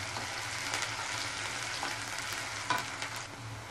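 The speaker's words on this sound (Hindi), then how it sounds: "पहले तेल अच्छे से गर्म होगा, मैं प्याज ऐड करूँगी। ये देख सकते हैं प्याज मैंने ऐड कर दिया है" Chopped onion sizzles in hot oil in a pan for a bean pod curry, a continuous crackling fry with a few stirring scrapes and soft pops, with no voices.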